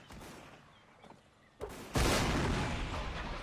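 Cannon fire in the Mount & Blade North & South mod during a Union Army line battle: a heavy, booming blast hits partway through and rolls on loudly, with a smaller report just before it, over the game's battle ambience.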